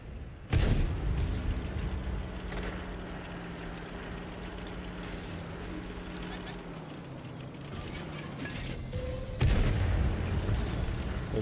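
Tank cannon shots in a tank video game, with a VK tank firing on an HG: two loud booming blasts, one near the start and one near the end, over steady engine rumble and game noise. Light talk runs underneath.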